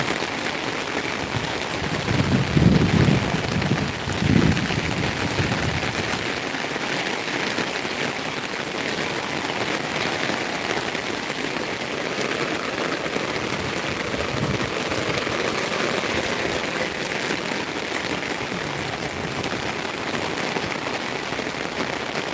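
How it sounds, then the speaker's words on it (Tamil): Heavy rain pours steadily, heard from a rooftop terrace, a dense continuous hiss with a few louder low thumps early on. "பாருங்க எந்த அளவுக்கு மழை இருக்குன்ட்டு பாருங்க"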